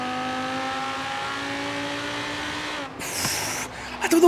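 Audi R8 V10 Plus in Forza Horizon 3, engine holding a steady high-pitched drone, then dipping and surging into sharp revs with crackling near the end, loud and close.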